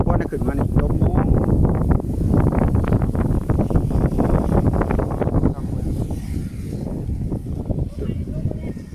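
Strong wind buffets a microphone high on a mountain road, a loud, continuous rough roar that surges and eases, with someone talking through it.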